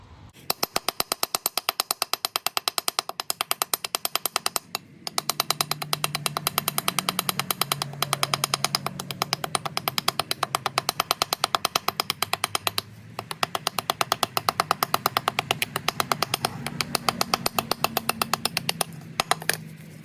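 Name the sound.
hammer chiseling rust off brake rotor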